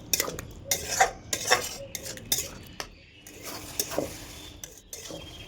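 Peas with whole green chillies and spices being stir-fried in a pan, metal spoon clinking and scraping against the pan in irregular bursts, close and fairly loud, with a faint sizzle underneath.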